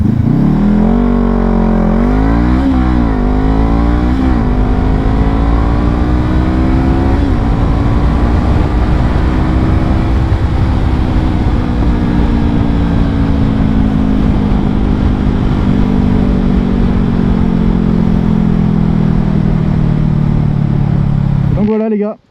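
A 2021 Honda CBR 500R motorcycle in metallic grey runs loudly and steadily close by, its engine note climbing with a few quick revs, then holding a long even drone that gradually eases down before cutting off abruptly.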